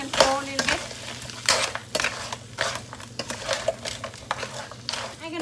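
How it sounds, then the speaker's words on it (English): Yellow curry crab with sugar and salt being stirred in a pan, giving repeated scraping and clinking of a utensil against metal over a soft sizzle, close and fairly quiet. "Stir it back and forth a little bit."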